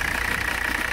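A 1985 Mercedes 300CD engine runs steadily at close range, a loud, even idle with a rough, slightly knocking rumble and a constant hiss on top.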